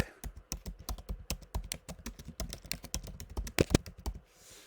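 Fingers type quickly on a computer keyboard, producing a close, steady patter of crisp key clicks with a heavier tap near the end.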